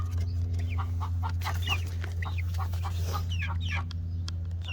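Several chickens cluck and murmur in short, irregular bursts over a loud, steady low hum, the calls close and overlapping.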